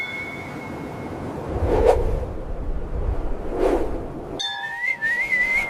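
Two soft whooshes of a small fairy's wings sweep past a few seconds apart over a faint whistling tone, followed by a gentle wavering whistle.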